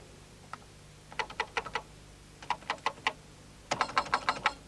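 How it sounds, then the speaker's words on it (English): Keys clacking on a Commodore PET computer keyboard while graphic symbols are typed with Shift held, in three quick bursts of crisp, close clicks separated by short pauses, with a faint hum underneath. "Now hold the Shift key down to type them."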